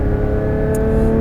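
Porsche 911 GT3 RS engine pulling hard on the Nogaro racing circuit, a loud, steady high-revving drone heard up close without a break.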